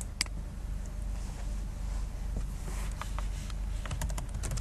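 Rapid, steady keystrokes on a computer keyboard as login details are typed into a point-of-sale application, close and clear over a low background hum, with no speech.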